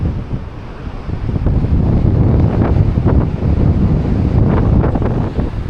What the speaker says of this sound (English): it's so windy, it's not worth doing